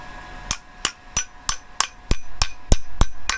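Ten sharp metallic strikes of a Scotch hammer in an even rhythm, each ringing briefly, close and loud with no talking.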